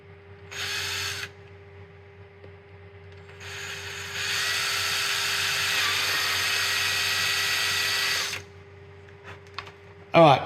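A power drill boring holes into Mizuno soccer boots in short whirring bursts, one brief spin, then a long sustained run, and a few small clicks and handling noises at the end.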